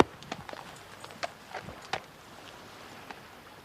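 A horse walks with a few irregular, moderately close hoof clops on hard ground in a quiet setting, with no talking.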